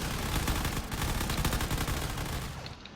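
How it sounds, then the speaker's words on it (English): Heavy battleship cannon fire fills a video game battle, a dense, continuous barrage of booming shots and rumbling blasts at steady loudness throughout. "all that cannon fire is doing quite a bit as well"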